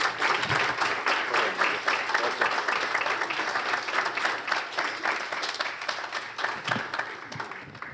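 A room of people at a city council meeting claps steadily for several seconds, dense applause that thins slightly toward the end with no voices.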